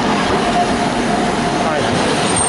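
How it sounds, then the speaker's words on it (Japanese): An electric train rumbles steadily nearby as it arrives at a station in Hokkaido, with broadband rolling noise and a faint high squeal, continuous throughout without pause. "昭和電車が到着いたしました。"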